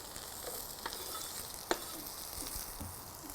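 Vegetables, including small-cut carrot pieces, frying and being stirred in a pan for a vegetarian chili, giving a steady close sizzle with a few sharp utensil knocks against the pan.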